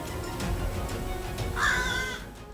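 Crows caw harshly while harassing a hawk outdoors, a couple of raspy calls rising out of wind and background noise, one loud, drawn-out caw standing out near the middle.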